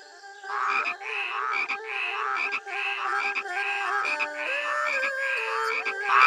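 In a betting frog game in Shenmue III, frogs croak over and over in a steady, rhythmic run of loud, close calls that overlap and keep going without a pause.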